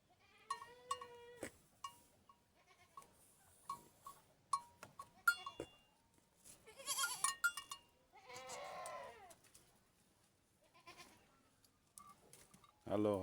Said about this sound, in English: Let us greet our goats inside here.